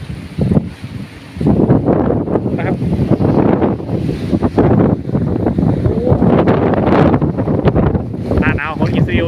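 Cold, dry wind blows outdoors in Israel at the start of winter, buffeting the microphone with loud, continuous rumbling gusts while someone talks throughout.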